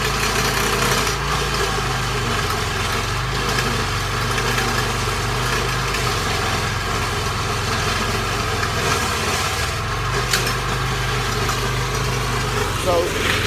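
A stump grinder engine runs in a steady, loud, continuous drone for the whole stretch, with someone talking over the machine noise.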